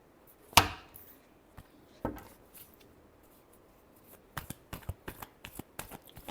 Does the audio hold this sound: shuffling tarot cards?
yes